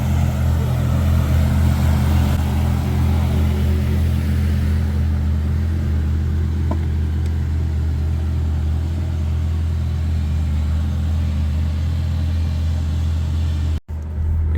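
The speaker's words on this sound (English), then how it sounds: "now we'll be driving this classic Gallardo in yellow up here" Steady low engine drone from inside a yellow Lamborghini Gallardo on the move, a constant rumble that holds evenly throughout with no voices, ending in a brief dropout near the close.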